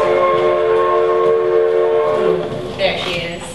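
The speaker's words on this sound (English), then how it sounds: "getting ready to fly the 5:45 train to Boston" A theatre sound effect of a train departing a small-town depot: a sustained, loud, harmonic whistle tone that fades after a couple of seconds into rumbling rail noise, with no voices.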